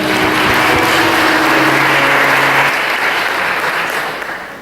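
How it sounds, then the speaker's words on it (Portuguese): A church congregation claps loudly and steadily, with dense applause holding for several seconds before tapering off slightly at the end. "dê uma salva de palmas, Senhor"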